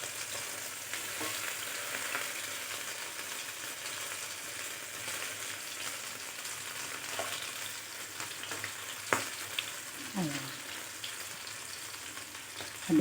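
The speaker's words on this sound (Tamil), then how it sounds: "இப்போ பாருங்கள், மீன் நல்லா 2 பக்கமும் நல்லா வறுபட்டுடுச்சுங்க." Small masala-coated fish frying in a pan, giving a steady, continuous hiss of hot oil sizzling with a few sharper pops and spatters near the end, no voices.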